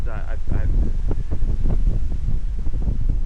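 Gusty wind buffets the microphone of a 360 camera during an outdoor walk, a loud continuous low rumble running throughout with a person talking over it.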